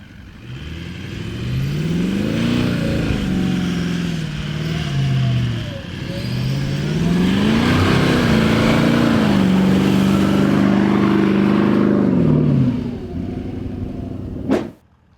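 A Toyota Land Cruiser 200 Series on a beach, with its traction control disconnected, revs its engine hard. The loud, close revs rise and fall repeatedly, and a sharp click comes at the end.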